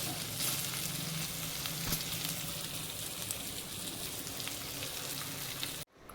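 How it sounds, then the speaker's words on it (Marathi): Free-range village chicken sizzles loudly and steadily as it fries in a pan, a dense crackling hiss with occasional pops, cutting off abruptly at the end. "सगळे आता बघा फ्राय झाले आहेत मस्त चिकन गावरांची"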